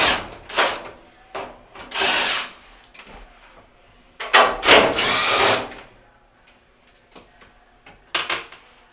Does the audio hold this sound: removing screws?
yes